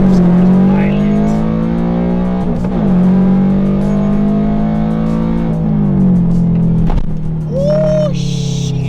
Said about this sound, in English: First gear in this car is violent.